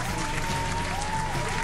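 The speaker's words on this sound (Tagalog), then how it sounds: "palakpak naman para kay Bray" Steady applause from a small group clapping for Bray, continuous and even with a faint tonal hum underneath, no voices standing out.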